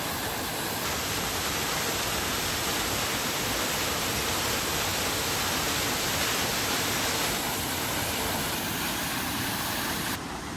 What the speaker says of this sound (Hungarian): Csobogás.